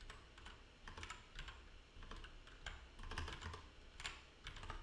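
Rapid keystrokes on a split computer keyboard during a programming session, a steady clatter of close, crisp clicks with short pauses between bursts and no talking.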